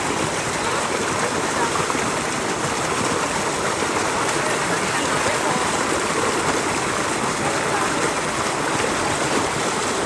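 Cold stream water rushes loudly and continuously at close range, a dense, unbroken wash of flowing water with no pauses across the whole stretch.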